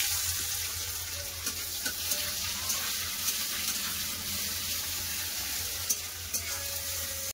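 Bay leaf, cumin and a little onion fry in hot oil, giving a continuous close sizzle with occasional light stirring clicks and scrapes.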